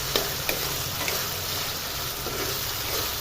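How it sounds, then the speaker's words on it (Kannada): Potatoes and peas with tomato and onion fry in hot oil for a potato kurma, giving a steady close sizzle with a few light clicks from stirring and no talking. "ಎಣ್ಣೆಯಲ್ಲಿ ಫ್ರೈ ಆಗ್ತಾಯಿದೆ"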